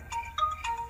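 A mobile phone ringtone rings in a domestic comedy scene, three short bright electronic bursts in quick succession, clear and fairly close with no voices over it.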